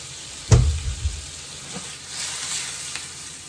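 Food cooking in a pan with a little date syrup stirred in. A sharp clatter and burst of sizzle open it, then a softer, steady frying hiss carries on with no talk.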